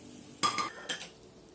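Ground ginger and coconut pieces get stirred in a pan for Kerala inchi curry, heard as two quick metallic spoon scrapes and clinks against the pan.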